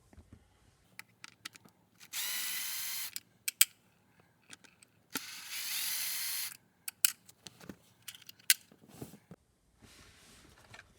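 Two bursts of a cordless power driver backing out T20 Torx screws from a Tesla Model 3/Y rear vent, each a steady whir of about a second, separated and followed by sharp clicks and handling knocks, close and fairly loud.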